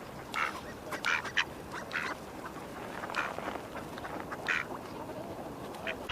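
Mallard ducks quack repeatedly in a busy flock, calls overlapping at moderate distance over a steady outdoor rumble.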